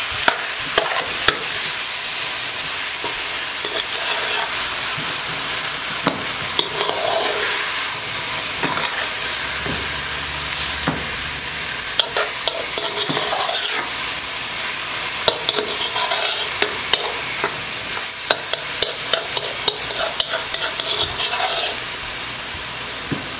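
Vegetables and meat for a Puerto Rican sancocho stew being stirred in a pot, a continuous sizzle broken by frequent scraping and clacking of the spoon, close and moderately loud.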